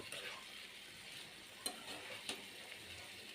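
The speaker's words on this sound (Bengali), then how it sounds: "ফুলকপি ভাজি বসায় ফেলেছি। একটু হলুদ দিলাম" Cauliflower frying with turmeric in a pan gives a faint, steady sizzle, with a couple of small clicks from stirring.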